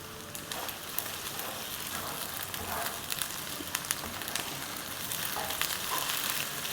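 Ginger and garlic paste sizzling with softened onions in a pan, a steady crackling fry with scattered spits and pops, close and moderately loud, no talk over it.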